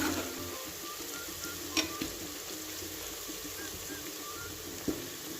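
Food browns quietly in a pan with a spoonful of garlic-ginger paste for chicken haleem, a soft, steady sizzle with two brief knocks of a utensil, no talking.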